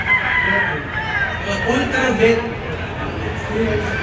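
Gamefowl roosters crow amid the dense murmur of a crowd at a large gamefowl expo, the calls drawn out and partly masked by nearby talking.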